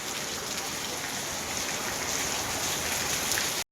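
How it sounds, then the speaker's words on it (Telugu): Heavy rain pouring down in a dense, steady roar of drops on surfaces, loud and close with no letup and no voices, cutting off abruptly at the end. "బీభత్సంగా వర్షం పడుతుంది"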